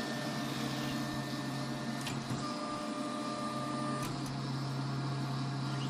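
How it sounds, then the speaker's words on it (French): A 3D printer with a heated extruder moving into position before starting a print: steady motor whine and fan hum with a few brief stepper chirps, close and continuous, no talking. "L'imprimante se positionne pour pouvoir bien imprimer."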